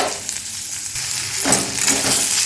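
Paneer and potato pieces frying in a pan give a continuous sizzle, with louder bursts of crackle and scraping as they are stirred, close by and without talking.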